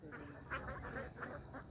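Ducks on an open duck farm quack in a quiet, brief burst of several overlapping calls, heard fairly far off against faint background noise.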